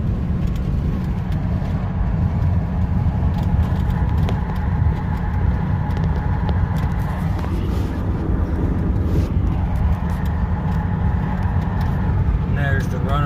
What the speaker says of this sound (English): this is the full exhaust brake